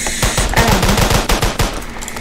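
Rapid bursts of automatic gunfire from the Roblox game Framed, loud and close, with dense repeated shots firing in quick rhythm for about two seconds and no talking.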